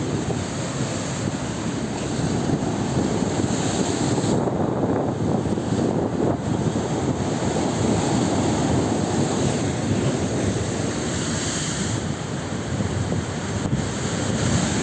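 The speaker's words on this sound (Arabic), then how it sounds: "موج البحر من اسكندرية، من سبورتنج كليوباترا اسكندرية" Sea waves surge and wash at Sporting Cleopatra beach in Alexandria, a continuous loud roar of surf mixed with heavy wind buffeting the microphone.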